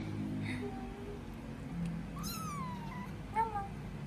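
A cat meows twice in a short, rising and falling call, then gives one brief higher cry near the end, heard over a steady low indoor hum.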